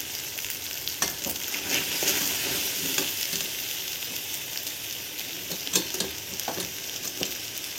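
Red chilli powder, turmeric, coriander powder and curry leaves fry in oil that has separated from a spicy masala, a steady sizzle broken by repeated stirring scrapes.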